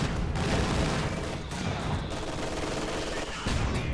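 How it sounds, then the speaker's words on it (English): Dense, continuous gunfire and explosive battle noise from an MG42 machine gun firing incendiary rounds in a World War II real-time strategy game, a sustained loud roar of shots and blasts throughout. "Incendiary rounds from the MG42 just shredding that conscript squad."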